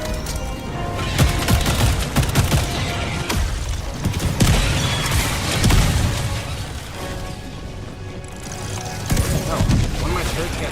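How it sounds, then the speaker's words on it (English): Sentry turret firing in the video game Helldivers 2, with dense bursts of gunfire, booms and mechanical clatter in a continuous loud battle din, speech audible over it. "Deploying sentry. Sentry turrets down."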